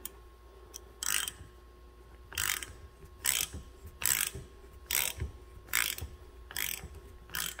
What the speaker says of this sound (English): I gotta tighten the vise.